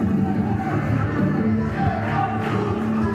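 Crowd noise at a live wrestling show as the audience rises for Sheik Mattoon, a steady, dense roar of cheering filling the arena throughout.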